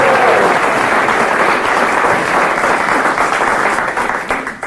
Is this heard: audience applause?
yes